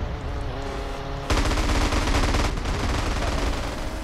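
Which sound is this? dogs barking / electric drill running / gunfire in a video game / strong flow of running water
gunfire in a video game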